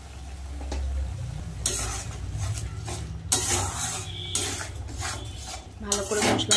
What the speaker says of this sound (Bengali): ভালো করে মশলাটা এবার কষিয়ে নেব।